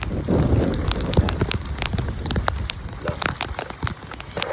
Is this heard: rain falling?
yes